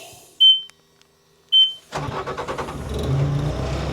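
A keyless heavy machine with 1,460 hours gives two short, sharp beeps about a second apart, then its engine cranks and catches, settling into a loud, steady, rumbling idle close by.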